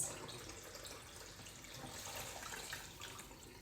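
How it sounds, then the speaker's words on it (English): Water drained off washed rice in a pot while making kuri khichdi, a soft, steady stream of pouring and splashing that runs quietly and evenly throughout with no talking. "And then you just drain all the water out just like that."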